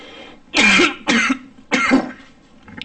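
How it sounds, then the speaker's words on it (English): Three harsh coughs in a row, close and fairly loud, separated by short pauses, with no talking, during a town planning commission meeting. "I'll stop coughing in a minute"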